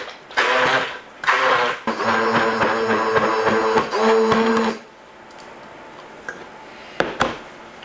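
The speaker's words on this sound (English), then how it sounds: "You can mash all you want, but I got my awesome mixer." An electric hand mixer mashes potatoes for a shepherd's pie, its loud buzzing motor whine starting in two short bursts and then running steadily for several seconds before cutting off, leaving only faint clatter.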